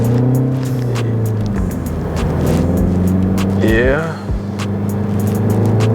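A 2025 Mini Cooper JCW coupe with a small turbo engine accelerating hard in a busy urban area, the engine note rising and droning steadily from inside the car while someone talks over it.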